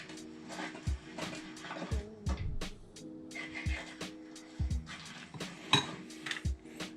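Colour being stirred into a liquid soft plastic mixture for homemade fishing lures, heard as quick, irregular clinks and scrapes of a utensil against a container, fairly quiet with a faint background hum.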